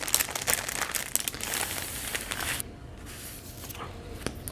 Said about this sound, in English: Let's go ahead and open these stickers.